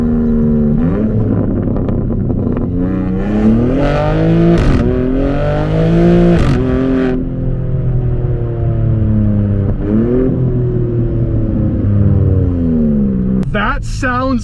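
A BMW G82 M4 Competition exhaust revving hard toward the redline in repeated bursts, loud and close, with roaring rises and gurgling, popping drops between them.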